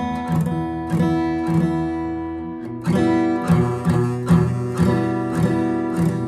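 A beginner strums buzzy guitar chords during a first guitar lesson. A few softer strums are followed by a steadier run of louder, ringing chords in an even rhythm, with no talking.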